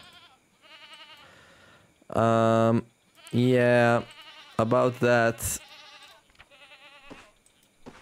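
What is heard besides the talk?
goat bleating in Card Survival video game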